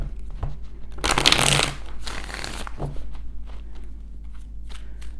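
A deck of tarot-style cards is shuffled in one brief, loud riffling burst, followed by quieter card handling and soft taps in a calm indoor room.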